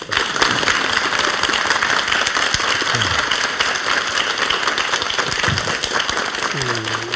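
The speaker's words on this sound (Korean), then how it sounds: "박수로 강의 청해 듣겠습니다." A studio audience on a Korean morning talk show applauds to welcome a lecturer for a special lecture, steady loud clapping throughout with a few faint voices mixed in.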